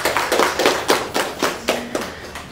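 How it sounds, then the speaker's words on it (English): Sparse, scattered clapping from a small press conference audience at a tech summit, about eight distinct, fairly close hand claps in an uneven rhythm, with no voices. "a big round of applause and appreciation for our sponsors"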